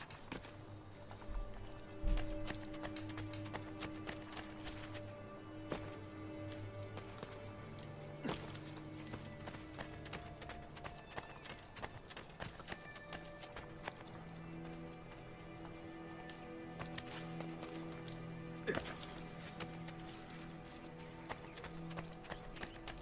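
Horse hooves clip-clop steadily in a video game, a continuous rhythmic trot heard fairly close, with the occasional whinny and game sounds around it.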